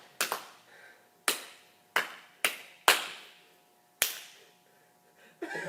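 A slow clap in an adult martial arts class, made with cupped C-grip hands. Loud, sharp single claps ring out one at a time with long gaps between them, about seven in all, in a quiet room.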